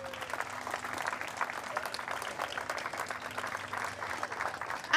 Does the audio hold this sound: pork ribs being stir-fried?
no